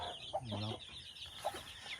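Chickens cluck in short, quiet bursts nearby, a rooster's throaty call rising briefly among them over soft background noise, on a Philippine farm.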